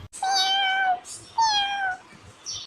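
A house cat gives two long, whining meows up close, followed by a shorter clipped call at the end, loud and insistent with no voices present.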